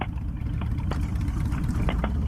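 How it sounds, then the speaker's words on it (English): A motorcycle engine runs close by just after starting, a steady low rumbling idle with a few brief higher bursts as it struggles to keep running. "Keep revving, it's going to die."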